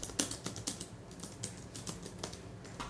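Fingers tap on a wireless keyboard in an irregular run of crisp, close keystrokes, quiet overall with no voices.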